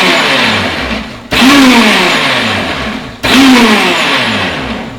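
An Optimum 9400 blender pulsing kale leaves on medium speed, two loud motor bursts that start abruptly, then whir and slowly wind down, close up with no talking.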